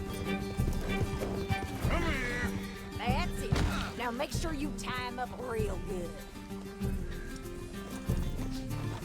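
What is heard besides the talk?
horse neighing and hooves in video game Red Dead Redemption II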